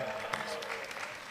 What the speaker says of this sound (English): He got a little bit of applause.